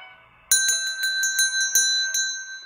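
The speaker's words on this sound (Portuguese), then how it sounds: "acionou o sininho das notificações?" A bright, ringing bell chimes several times in quick succession, each strike leaving a shimmering metallic tone that lingers.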